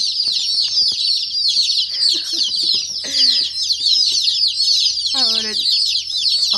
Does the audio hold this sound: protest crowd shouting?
no